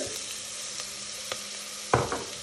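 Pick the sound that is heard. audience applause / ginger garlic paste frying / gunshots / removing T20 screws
ginger garlic paste frying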